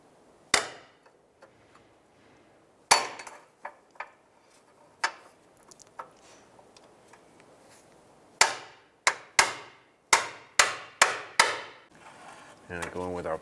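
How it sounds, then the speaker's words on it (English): Sharp metallic hammer blows drive a long punch against a metal band clamp on a 2011-2019 Ford Fiesta inner tie rod boot, a few scattered strikes followed by a quick run of about eight close, loud hits. "We're going to use our long punch to get to the edge of the band clamp here, and we're going to take that right off."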